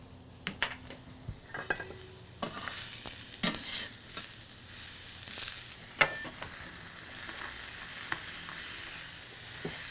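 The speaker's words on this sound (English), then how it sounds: "So I'm going to cook the onions with the bacon." Sliced onions sizzling with bacon in a pan, a steady frying hiss broken by scattered sharp clinks and scrapes of a utensil stirring against the metal, close and moderately quiet with no talking.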